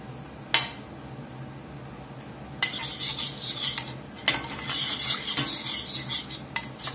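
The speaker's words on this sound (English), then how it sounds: "Get some butter swirled in here." A metal utensil scrapes and stirs in a pan as butter is swirled into a red wine pan sauce for filet mignon, with a sharp clink early on, then steady close clattering strokes under a faint sizzle.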